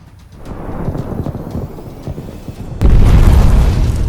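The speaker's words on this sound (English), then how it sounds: "stationary APC exploded one by one." A stationary armored personnel carrier explodes in a military convoy on a blocked road, a deep booming blast that swells into a heavy, sustained roar partway through, loud and close.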